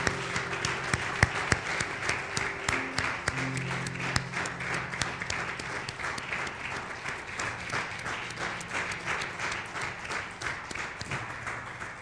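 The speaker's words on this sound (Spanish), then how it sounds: "Le damos un aplauso grande," Church congregation applauding after a prayer during a Spanish-language sermon, steady sustained clapping from many hands filling the room at moderate distance, with a faint voice underneath.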